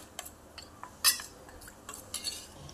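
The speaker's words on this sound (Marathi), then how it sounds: "कॉर्नफ्लॉवरची आपल्याला सरी बनवायची आहे, त्यामध्ये पाणी टाकून त्याचा एक चांगला घोळ करून घ्यायचा" A spoon stirs cornflour and water into a slurry in a bowl, giving scattered light clinks and taps at irregular intervals, one sharper than the rest, over quiet kitchen background.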